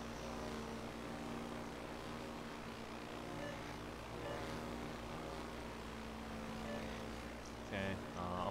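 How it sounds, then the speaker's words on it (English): Propeller-driven torpedo planes from an aircraft carrier game drone steadily overhead, a continuous low engine hum at moderate distance, with a brief louder burst near the end. "These torpedo planes are coming right at me."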